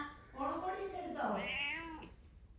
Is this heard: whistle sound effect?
no